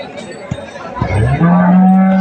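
A crossbred cow gives a long, low moo close by at a cattle market, rising and then holding steady, after a few short background noises.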